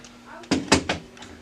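Front access parts of a Brother HL-5240 laser printer handled as the toner and drum unit is pulled out, giving three close plastic thunks and knocks in quick succession.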